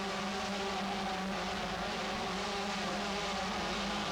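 Several 125cc Honda motocross bikes racing at a 1992 event: a dense, continuous two-stroke engine drone with layered revving, steady and fairly loud throughout with no pauses.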